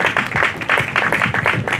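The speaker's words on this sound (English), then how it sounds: "Please, a round of applause for Mr. Temple." A crowd at a program closing ceremony gives a short round of applause for Mr. Temple, a steady patter of many hands clapping together at moderate volume.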